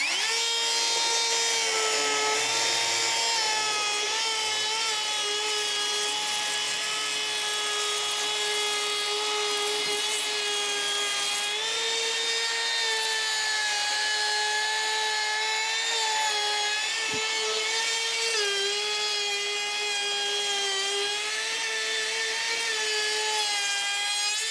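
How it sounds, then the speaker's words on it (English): A router shaping the wooden edges of a DIY kayak and inflatable skiff trailer whines at a steady high pitch, loud and close throughout, with no talk over it. "I probably don't need to route the edges off"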